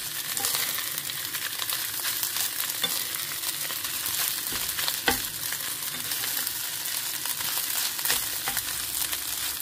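Fried rice sizzling steadily in a pan, with stirring scrapes and occasional clicks of the utensil over a constant hiss, no voices.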